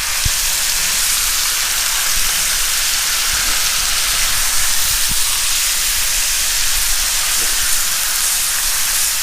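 Ribeye cap steaks marinated in Worcestershire and soy sauce searing on a cast iron pan, a dense, steady hiss of sizzling with occasional faint pops throughout.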